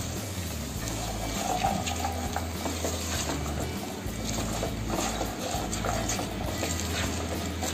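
Vegetables stir-fried for veg pulao with salt, producing a dense, continuous sizzle and repeated scraping and clattering of the stirring utensil against the pan, close and fairly loud.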